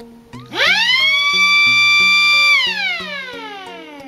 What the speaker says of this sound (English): I have the tornado siren plugged into that right there. So that means if I touch these 2 wires together, it'll sound.